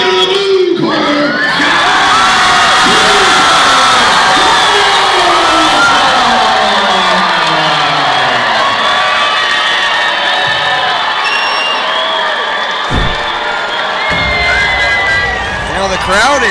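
Arena crowd at a combat sports event roars and cheers loudly as a fight decision for a hometown favorite is announced, sustained shouting and whooping filling the space, with announcer speech at the start.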